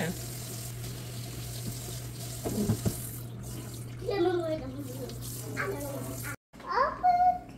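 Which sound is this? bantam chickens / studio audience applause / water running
water running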